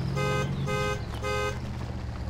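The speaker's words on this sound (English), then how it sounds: "I was just honking to let you know where I was." Truck horn in the off-road driving game Spintires, three evenly spaced loud toots, each about a third of a second long, over a low rumbling engine.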